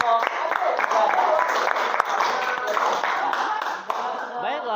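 Students in a classroom clap for a group, sharp hand claps scattered through the clip while people talk over them.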